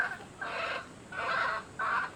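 Newly hatched Aseel Boston Roundhead chicks cheep in three or four high, bright bursts close by, each lasting a fraction of a second, with a low background hum and no one speaking.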